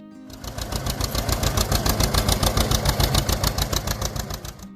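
A John Deere Model A tractor engine runs steadily after a brief start, with an even, loud, close chugging beat repeating several times per second throughout.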